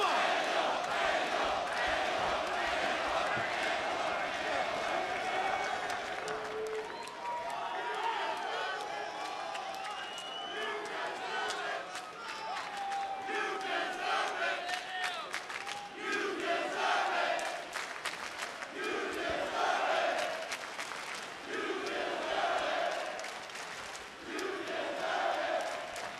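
A large wrestling arena crowd at a pro wrestling pay-per-view event cheers and chants in rhythmic waves, a steady, distant roar with repeated rising bursts of voices throughout.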